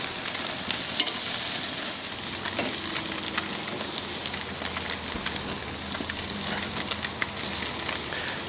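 Fish sears on a grill for Baja-style tacos, giving a continuous loud sizzle and crackle with scattered pops throughout, alone without talk.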